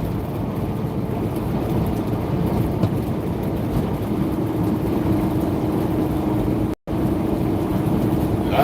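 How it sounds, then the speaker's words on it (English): A diesel truck engine drones from inside the cab as a steady low hum under constant road and wind rumble, running unbroken apart from one very brief dropout. "I'd rather listen to the hum of that diesel."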